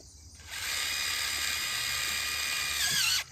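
A power drill drives a screw into PVC pipe for pig electric fencing, giving one close, steady high whine lasting under three seconds before winding down.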